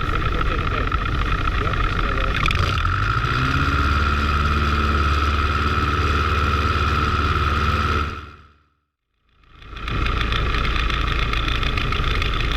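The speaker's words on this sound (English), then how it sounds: "cutting the power to simulate an engine failure after takeoff." A Piper Super Cub's propeller engine drones steadily at low power, its pitch shifting slightly, then cuts out briefly for a simulated engine failure after takeoff before the drone resumes.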